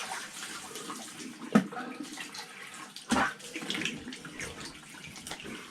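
Cold water runs steadily from a tap into a basin, splashing and gurgling at close range, with a couple of louder splashes as hands move through the stream.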